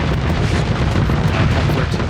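Missile explosions in the space combat game Starsector, a dense, continuous roar of overlapping blasts and rumbling impacts, loud and unbroken with no pauses.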